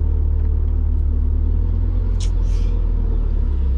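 A revived, once-abandoned Mazda Miata on its first test drive, heard from inside with a constant loud low engine rumble and road noise and a brief faint voice partway through.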